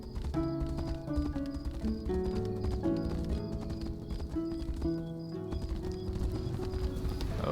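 Horse hooves clip-clop in a steady trotting rhythm while riding through the fantasy video game Tainted Grail: The Fall of Avalon, a clear repeated clatter layered over sustained orchestral music.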